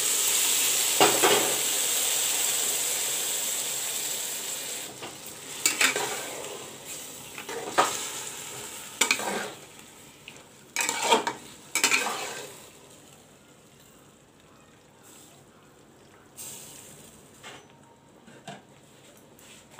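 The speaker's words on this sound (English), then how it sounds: "I will let the mutton cook and fry." Mutton frying with browned onions for a bhuna jeera curry sizzles steadily at first, then fades to a low hiss broken by repeated scraping bursts of stirring against the pan, with no talk.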